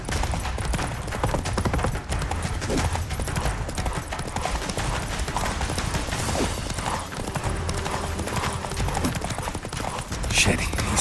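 Geralt's horse Roach gallops in The Witcher 3, a rapid, continuous drumming of hooves under clashing combat noise, with a voice speaking over it.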